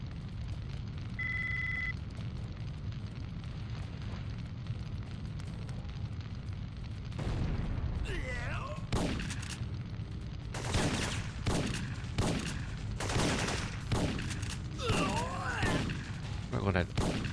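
Syphon Filter game audio carries a grenade explosion and bursts of gunfire: a rumbling blast, then several sharp, loud shots spaced across the second half, over constant background game noise.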